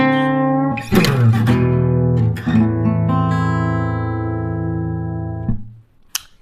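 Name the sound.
blues guitar lick number 2 played at faster pace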